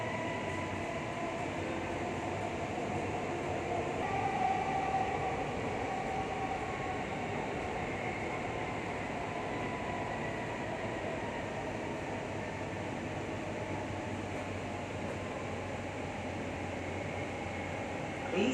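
A Kochi Metro train runs between Vyttila and Aluva, heard from inside the carriage as a steady, moderately loud rumble and hiss that continues evenly with no talk.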